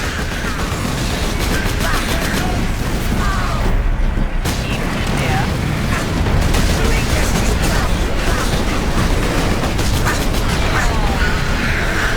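Artillery shell loaded into a loader in the Warhammer 40,000: Space Marine game, heavy mechanical clanks and grinding machinery over a constant loud din of battle and gunfire, with voices talking over it.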